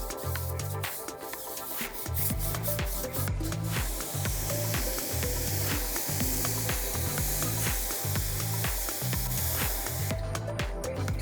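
A soft nylon brush scrubs a tire coated with Revolve tire cleaner to strip old tire shine, making steady rhythmic scrubbing strokes close by, with no talking.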